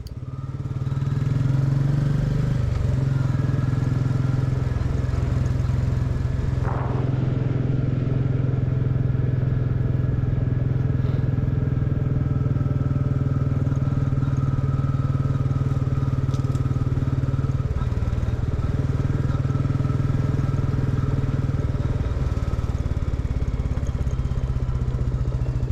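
A Royal Enfield 350 motorcycle ridden along deserted Berwickshire back roads, its engine droning steadily and loudly close to the microphone for the whole stretch, with wind rush and a few brief knocks and clatters over rough ground.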